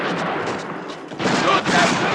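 Gunfire in a Cuban combat scene from 1979, several booming shots and bursts close by, mixed with shouting voices.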